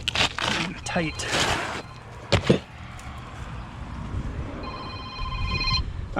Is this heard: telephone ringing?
yes